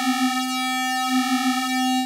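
A Klavis Twin Waves MkII synthesizer holds three unison square waves on one low pitch with a buzzy, hollow timbre, subtly wavering as the layered voices drift in and out of phase.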